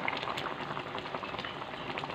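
Eggs and potatoes boiling in water for egg curry, a soft, steady bubbling simmer with faint pops, heard close and fairly quiet.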